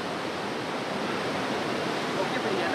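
A small stream swollen with floodwater rushes past, a dense, even roar of flowing water close by with no voices over it.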